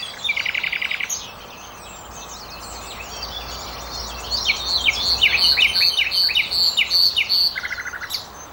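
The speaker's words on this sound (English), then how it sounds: "the song of the nightingale" A nightingale sings in clear, close phrases: rapid repeated trills and chirping notes come in bursts, busiest in the second half, over a faint steady background hiss.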